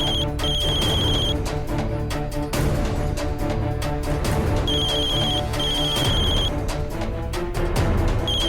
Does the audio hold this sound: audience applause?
no